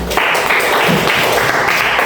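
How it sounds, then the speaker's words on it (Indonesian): A burst of dense applause, many hands clapping together loudly and continuously for a couple of seconds. "Oke, bagus, tepuk tangan."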